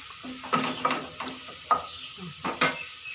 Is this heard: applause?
no